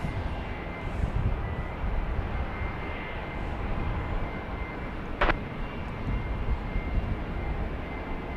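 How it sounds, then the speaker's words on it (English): JSX jet planes at Dallas Love Field airport at night give a steady, distant engine roar that fills the whole stretch, with one brief sharp click partway through and no talk. "here's some JSX planes over the JSX hangar across the way"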